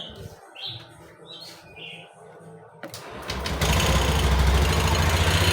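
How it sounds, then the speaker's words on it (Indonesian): Honda Beat FI ESP scooter, a 2020 deluxe model brought back after stalling, cranks and fires up, then settles into a loud steady idle, with birds chirping in the background beforehand. "full pump sudah menyala dengan baik, maka kita bisa mencoba menyalakan motornya"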